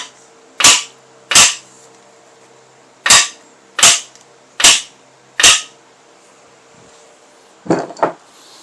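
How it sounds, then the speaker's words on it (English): A big mallet strikes a cam bearing installation tool on a small-block Chevy engine during teardown: six loud, sharp metallic whacks at an uneven pace, then two quicker lighter taps. "BFM, big friendly mallet."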